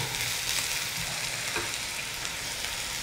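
Vegetables for veg dry Manchurian stir-frying in oil on a high flame, giving a dense, even crackle and hiss that holds steady throughout.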